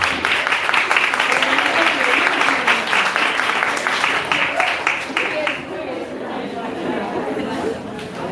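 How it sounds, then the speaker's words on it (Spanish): Audience applause at a conference day on lesbian existence, with dense clapping and crowd chatter for about five seconds before fading away, while voices talk over the tail end. "Un aplauso."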